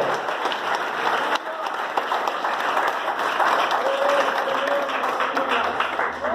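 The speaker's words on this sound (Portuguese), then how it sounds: "Dá uma salva de palmas para Jesus" Church congregation clapping in a sustained, fairly loud round of applause, with faint voices mixed in beneath the dense clapping.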